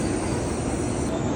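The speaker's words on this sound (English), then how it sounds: "we're here in the bullet train going to Osaka" Inside a bullet train running to Osaka in Japan, a dense, steady rumble of wheels and rushing air fills the cabin, loud and unbroken throughout.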